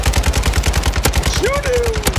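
Rapid automatic gunfire from Call of Duty: Modern Warfare II, loud and rhythmic bursts throughout, with a brief rising in-game tone near the end.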